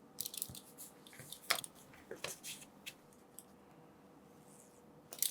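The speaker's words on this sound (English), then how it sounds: "I'll bring my knife and let's cut" A knife run along a corner-cutting jig trims the corners of a bookbinding cover, giving several short, crisp cutting strokes up close with quiet gaps between them.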